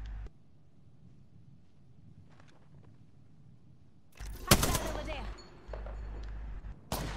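Gunfire in a first-person shooter video game erupts after quiet, a loud crack followed by a dense burst of shots, then another sharp blast at the end.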